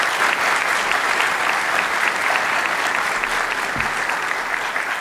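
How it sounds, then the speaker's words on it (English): Sustained audience applause after a debate on whether Jesus rose from the dead, a steady dense wash of clapping from a full room, evenly loud throughout with no speech over it. "one final round of applause for our debaters for the job they did tonight"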